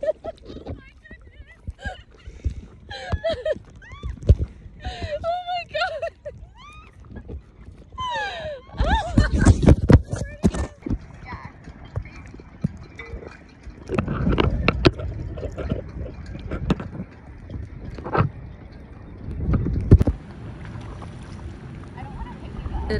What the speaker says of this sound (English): I don't know if you can tell or if you can hear the wind